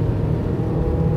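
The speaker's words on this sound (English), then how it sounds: "I think I need to just stay in second gear, just keep it in this rev range here" Cheap second-hand van engine labouring in second gear up a hill, a steady loud low drone held at one rev range throughout, with no voices over it.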